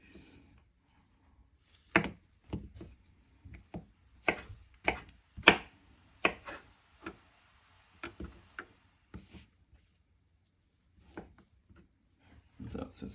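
A knife slicing through chicken of the woods mushroom on a cutting board gives a series of irregular crisp chops and taps, close and fairly quiet, with pauses between cuts.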